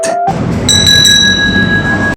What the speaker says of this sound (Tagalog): there's a small service bell that guests can ring if they were satisfied with their stay